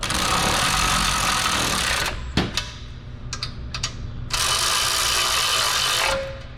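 Ratchet snugging bolts during assembly of a Honda engine: broadband mechanical ratcheting in two sustained bursts separated by a quieter gap with scattered clicks, close and loud.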